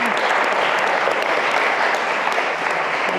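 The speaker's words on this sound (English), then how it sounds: "The spontaneous applause said it all, really." Spontaneous applause from a lecture audience after a talk on the history of modern China, dense and sustained clapping from many hands, close and loud, with no talking over it.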